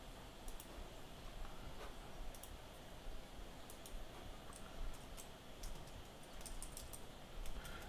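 Quiet computer keyboard typing with fast, irregular key clicks that carry on steadily through the whole stretch, close up and soft against low room noise.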